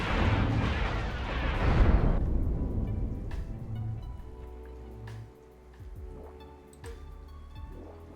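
Heavy booming weapons fire from spaceships in the space combat game Cosmoteer: a loud, dense barrage that fades after about two seconds into scattered distant blasts and pops, with no talking.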